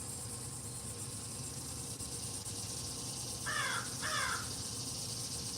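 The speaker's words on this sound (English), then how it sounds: "Good morning, Crow." A crow gives two short, harsh caws in quick succession from a moderate distance, set against a steady hiss of insects and background noise.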